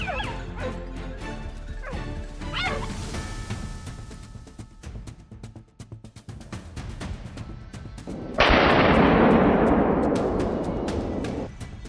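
Hounds barking and yelping during a wild boar hunt on a farm, then a sudden loud rifle-like blast followed by a long harsh noisy burst that fades slowly.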